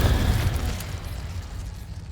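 An Incendio fire spell cast in the Hogwarts Legacy video game bursts with a deep whooshing boom, loud at first and then fading into a rumbling fiery tail.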